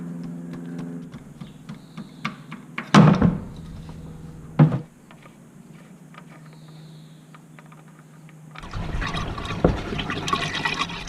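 Used engine oil drains from a large farm tractor's engine into a can, a low steady trickle with a couple of sharp metallic clunks, then a busier rush of liquid toward the end, no talking.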